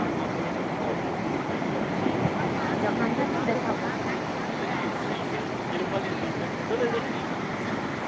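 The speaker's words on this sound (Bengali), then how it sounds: "পুরীর পাড়ে সমুদ্র সৈকতে" Evening sea waves on the beach at Puri roll in a constant broad wash mixed with wind noise. Faint voices sit in the background.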